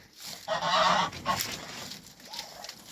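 A few loud nasal honks from ducks close by, a burst near the start and shorter calls after, with quiet pauses between.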